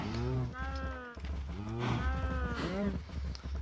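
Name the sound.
cows mooing in the video game Minecraft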